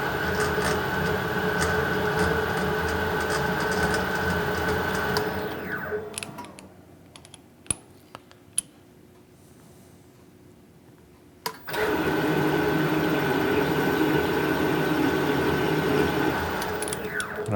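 A metal lathe with an electronic leadscrew cuts a metric thread, its motor whine and mechanical drone running steadily, falling silent for a few seconds apart from small clicks, then starting up again.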